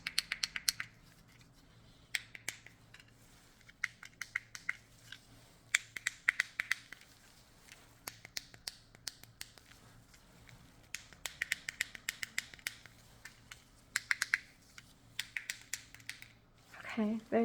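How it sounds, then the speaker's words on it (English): Sharp, quiet clicks for a hearing test in irregular bursts, some single and some in quick runs that speed up toward the end, over a low steady hum. "I'll have you tell me how many times you hear the clicking sound"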